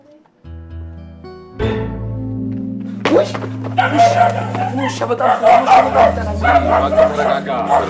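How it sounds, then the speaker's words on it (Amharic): A dog barks and yelps close by, mixed with thumps and people talking over it. "ውሻ በጣም ፈራል።"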